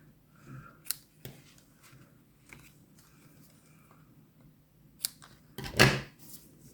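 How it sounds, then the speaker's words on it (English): Scissors snipping the tails of ribbon on a handmade wreath Christmas card, a few sharp close cuts spaced apart, with a longer rustling snip near the end and a quiet room otherwise. "Let's cut our tails in an artful manner."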